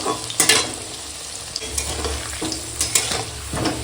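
Potato pieces frying in oil in a wok, a steady close sizzle with periodic scraping stir strokes and spoon clatter every second or so; no talking.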